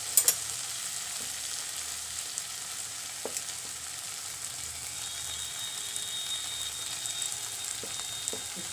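Spices sizzling and frying in hot oil for sarson ka saag, with asafoetida just added; a steady, close crackling hiss runs throughout with a few sharper pops.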